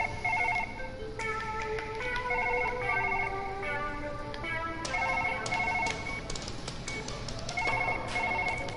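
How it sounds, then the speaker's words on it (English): A phone rings inside the video game Surgeon Simulator, a repeating electronic ringtone of bright tonal chirps in a steady pattern, moderately loud over a faint background hum. "There's a phone ringing."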